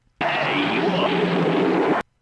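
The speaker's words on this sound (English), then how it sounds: "That's for when the Kool-Aid Man busts into someone's house" One loud burst of crashing noise, dense and chaotic, lasting about two seconds before cutting off abruptly, like something smashing through a wall, a Kool-Aid Man wall crash sound effect.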